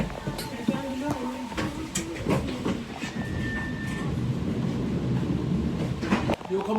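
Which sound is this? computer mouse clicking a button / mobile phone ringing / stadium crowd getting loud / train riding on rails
train riding on rails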